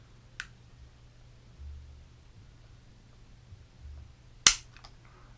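Sharp dry-fire trigger click of a Raven Arms P-25 pistol, one faint click early and a louder snap near the end, set apart by quiet room hiss.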